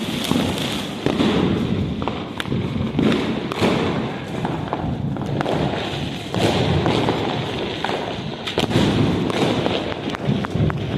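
Diwali firecrackers burst again and again outdoors, a string of sharp cracks and heavy thumps over a constant background of more distant bangs, loud and close throughout.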